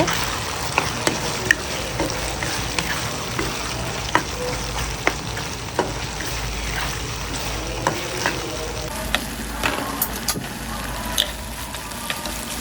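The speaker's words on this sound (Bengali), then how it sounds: "এখন আমি এগুলো তেলের মধ্যে ভেজে নিচ্ছি" Vegetables and chopped garlic fry in oil for a Chinese-style stir-fry, a steady close sizzle punctuated by a dozen sharp clicks and scrapes of a spatula against the pan.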